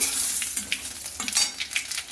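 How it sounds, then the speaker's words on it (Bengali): Fish pieces frying in hot oil in a home kitchen, a steady close sizzle with crackling bursts and a few light utensil stirs, no talking. "এই ভাজা মাছ মাথাটা আদিত্য খাবে ঠিক আছে চলো রেখে আসো বা তেলের ভিতর দিয়ে দিলাম"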